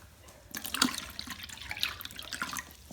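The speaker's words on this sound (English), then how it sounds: "I always put ice cold water too in her bowl when we get back" Ice cold water splashes into a dog's bowl at home, a short close pour with bright trickling and dripping that starts abruptly and runs for a couple of seconds.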